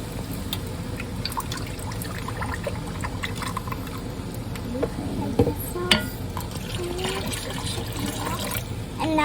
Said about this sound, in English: I will add the cream. And I will add the chicken broth.